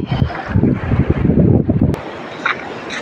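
Strong wind on the Red Sea coast in Saudi Arabia buffets the microphone with low rumbling gusts during crab catching, loud and steady at first and easing slightly toward the end, with faint splashing.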